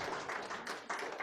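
A church congregation claps in thanks during a sermon, a quiet, brief patter of applause from many hands in a room.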